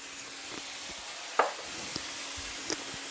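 Onions and browned steak fry quietly in a pan, a soft, faint sizzle broken by a few light scrapes and taps of a stirring utensil.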